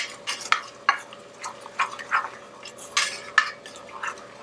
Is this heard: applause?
no